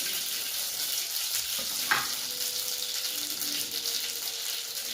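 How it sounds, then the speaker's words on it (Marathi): Cumin and mustard seeds sizzling in hot oil for an onion chutney: a steady, close hiss of frying with a single small click partway through. "नंतर जिरे टाकायचे, मोहरी सोडायची"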